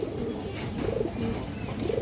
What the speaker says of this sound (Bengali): এই দর্শক রামপুরি জোড়া ডাকাডাকি করতেছে